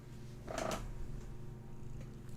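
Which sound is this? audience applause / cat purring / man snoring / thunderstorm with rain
cat purring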